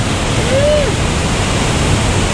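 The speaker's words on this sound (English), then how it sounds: "We got to our first location here on Cascade Falls in Rocky Mountain National Park." Cascade Falls in Rocky Mountain National Park pours with a loud, steady, broadband roar of rushing water that fills the whole scene without pause.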